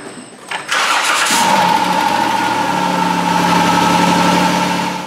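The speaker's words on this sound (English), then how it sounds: "So let's go ahead and start the engine, let it warm up." A Dodge Caravan 3.3L V6 engine cranks briefly, catches and settles into a steady, loud idle with a constant hum and whine that runs to the end.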